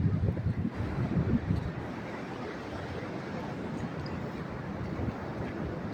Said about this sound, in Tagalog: masama yung panahon, may bagyo sa norte, kaya malakas yung alon, grabe